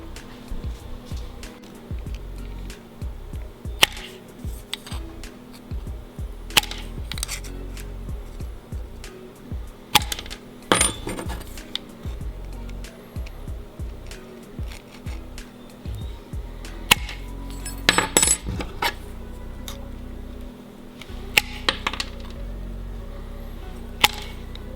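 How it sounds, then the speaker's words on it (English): Metal fishing-spinner blades cut freehand, heard as irregular sharp snips and clicks scattered over a low steady background hum, fairly close and with no talking. "I'm just going to just cut them freehand"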